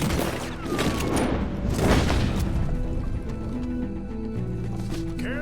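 Gunfire during a night shootout in Red Dead Redemption 2, a dense burst of shots and booms over horse hoofbeats and whinnies, fading into a low rumbling bed with a sustained game music tone.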